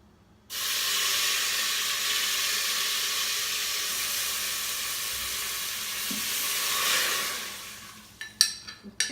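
Two cups of bone broth tipped into a hot Instant Pot with meat going in, giving a steady loud hiss and sizzle for about eight seconds before it fades, followed by a few sharp knocks near the end.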